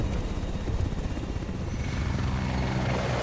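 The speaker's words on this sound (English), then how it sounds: "Yeah, we're going up in the helicopter." A helicopter in a first-person shooter video game gives a loud, continuous rotor thump and turbine whine, close and steady throughout, with no talk over it.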